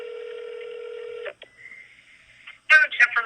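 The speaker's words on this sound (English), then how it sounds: "So I'm going to go ahead and play, and then we can talk about it." A telephone dialing sequence: a steady tone, then short electronic beeps, followed by a brief ring-like burst at the end, clear and close, with no talk.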